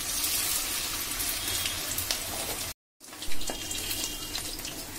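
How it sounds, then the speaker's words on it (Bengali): Chicken pieces for chilli chicken fry in hot oil over a medium flame, giving a dense, steady close sizzle with a brief gap partway through. "আমি এইভাবে সব চিকেনগুলোকে ভেজে নেব।"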